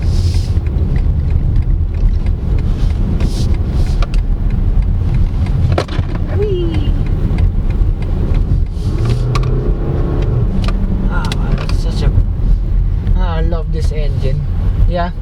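A 2024 BMW X3 xDrive20d driving in sport mode, its engine and road noise forming a steady loud drone throughout, with a person talking over it.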